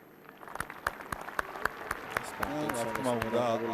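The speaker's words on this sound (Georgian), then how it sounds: "გულები აპლოდისმენტებით გააცილეს ბადრი მოედნიდან გულშემატკივრებმა." Rugby crowd at a Europe Championship match between Germany and Georgia, applauding a player leaving the field: scattered claps that swell into steadier distant applause, under a commentator talking throughout.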